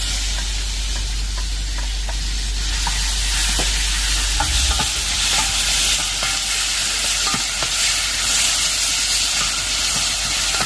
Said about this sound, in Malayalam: ഒന്ന് വഴറ്റിയെടുക്കാം